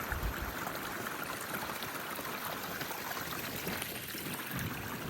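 A small mountain stream runs over rocks along a ridge near Skyland Resort, giving a steady, close rushing and trickling wash that holds even throughout with no voices.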